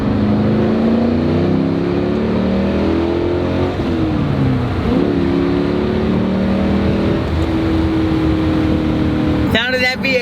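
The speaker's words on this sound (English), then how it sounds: "Sound of that V8, baby." Chevrolet Camaro SS with a V8 engine revving on the road, a loud steady engine roar with rising and falling pitch as it accelerates throughout, with speech over it near the end.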